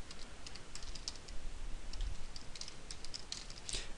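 Registration code being typed on a computer keyboard, a quiet run of rapid, light key clicks over a steady background hiss.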